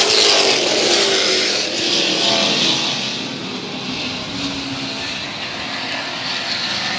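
Pack of race cars and trucks at Central Texas Speedway roaring off at the green flag, a loud, sustained wall of engine noise that swells and holds steady with revving layered throughout.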